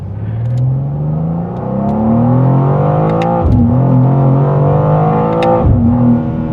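A 2025 BMW M2 LCI pulls away and accelerates, its engine note rising loudly through the revs with two quick gear shifts that briefly dip the sound before it climbs again.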